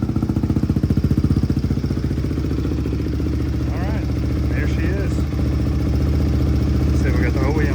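Single-cylinder Honda CRF dirt bike engine, a barn find freshly fitted with a rebuilt carb, adjusted valves and new chain and sprocket, runs steadily and close at a rough idle, with voices talking over it.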